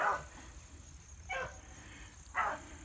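Six-month-old beagle puppies bred from field champion lines barking outdoors, three separate single barks spaced about a second apart at moderate distance over quiet background hiss.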